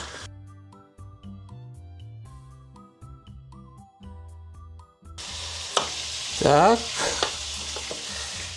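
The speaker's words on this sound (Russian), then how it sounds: "Пока мясо у нас жарится" Lamb meat frying in a pan. The second half is a loud, sizzling hiss with stirring, after a quieter stretch of soft background tones, and a voice briefly speaks.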